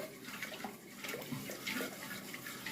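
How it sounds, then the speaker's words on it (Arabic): Sugar being stirred into two cups of water in a pot to make syrup for homemade basbousa, giving a soft, continuous watery swishing and sloshing, close and quiet, with no speech. "انا كده نزلت بكوبايتين ميه عليهم كوبايه ونص من السكر. هقلبهم بس كده شويه"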